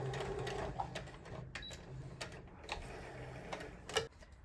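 A sewing machine back stitches a tote bag lining, giving quick, irregular mechanical ticks and short clattering bursts at close range, fairly quiet overall, with a sharper clack near the end.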